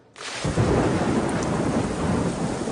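Heavy rain with rolling thunder during a storm, a dense, steady roar that swells quickly at the start and stays loud and continuous throughout, with no voices.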